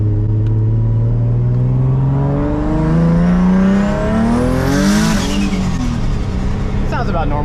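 A Nissan 350Z engine running on wastegate alone while driving. Its close, steady drone climbs in pitch as the car accelerates, then eases off near the end.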